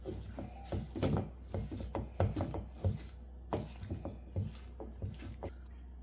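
Sticky ragi dough is worked in a pan with a spoon, giving close, irregular squelching and scraping strokes with soft thuds, fairly loud, with no voice over it.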